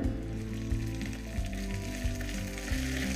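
Curry leaves and cut dried red chillies sizzle and crackle steadily in hot oil in a pan for an inchi puli, a continuous close frying hiss with no talking.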